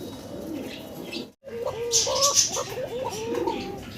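A Modena pigeon coos in a repeated soft rolling pattern, close and clear, with light chirps in the background after a brief silent gap.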